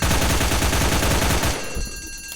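Rapid gunfire from the video game Death Park 2, a loud, close burst of repeated shots that cuts off partway, leaving a quieter ringing tail.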